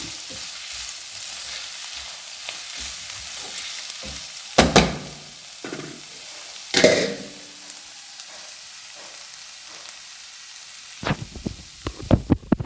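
A coconut and onion sandwich filling is stirred in a hot pan. A steady frying sizzle is broken by a few louder scrapes and knocks of the spoon against the pan.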